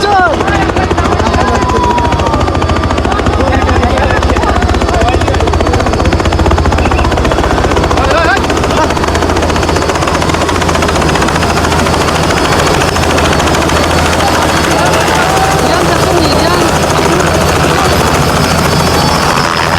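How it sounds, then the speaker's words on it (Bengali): A helicopter lands close by with a loud, constant rotor roar and rapid chopping beat that fill the whole stretch, with crowd voices mixed faintly underneath. "খুব সুন্দর হেলিকপ্টারটা ল্যান্ডিং করলেন"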